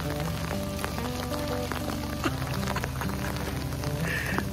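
Hail, about an inch deep, falling near a closed winter road in Glacier National Park, Montana, a steady dense patter of small ice pellets on surfaces filling the whole stretch, close and continuous with no talk.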